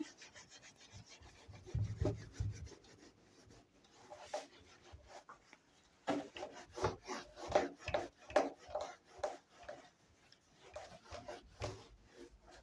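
A board is wiped clean by rubbing during a classroom lesson, making soft, uneven scrubbing strokes that come close and quiet in irregular bursts.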